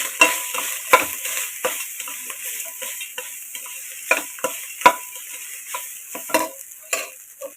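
Rice being stirred with fried chillies in a pan, a steady low sizzle broken by repeated scraping clicks of the spoon against the metal, close and fairly loud, with no voices.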